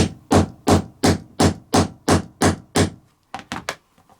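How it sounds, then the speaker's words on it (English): A hammer strikes a grommet cutter through fabric eight times in a steady rhythm, loud and close, then three quicker, lighter taps follow after a short pause. "And you just use a hammer"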